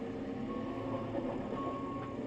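A tractor fitted with a Hustler Unrolla LX104 bale unroller sounds a steady reversing beep while backing out, heard over a constant low engine rumble, fairly faint and without talk.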